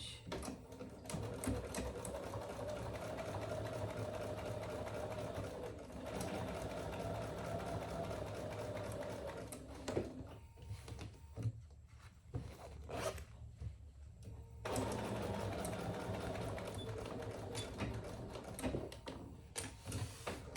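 A sewing machine stitches cotton fabric, running in steady continuous bursts that pause briefly and restart, close and fairly loud with no talk.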